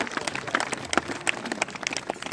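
Audience applause for a teacher at a Basant Panchami school event at a government senior secondary school in Keshoraipatan, Bundi: a burst of scattered, uneven hand clapping from a moderately distant crowd that continues throughout.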